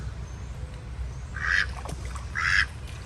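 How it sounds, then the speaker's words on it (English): Two raspy, hoarse drake duck calls come one after another at moderate distance on a homestead, each a short wheezy burst over steady low outdoor rumble. "the male ducks, the drakes, actually sound like, almost like they have a little bit of a cold"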